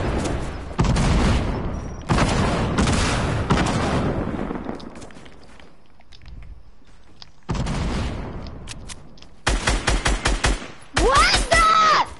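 Gunfire from a shooting battle in a PS4 video game, heard as loud bursts and rapid volleys with short pauses between them, punctuated by booms, with voices talking at times over the action.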